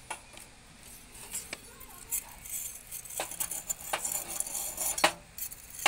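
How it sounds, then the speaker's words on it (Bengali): Steady wire-brush scrubbing over a hard surface to loosen dirt, a dry scratchy rasp with sharp metallic clicks and clinks scattered through it, close and fairly quiet, with no talking. "এবারে এটাকে একটু এরকম তারের ব্রাশ দিয়ে আমরা ঘষে নেব প্রথমে"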